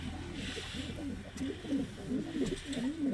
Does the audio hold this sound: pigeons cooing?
yes